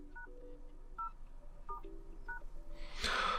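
Keypad tones from the Phone app on a Samsung Galaxy Tab Active5 Pro as a code is entered: four separate dual-tone beeps at an even pace, each short and clean and close by, followed by a brief louder clatter.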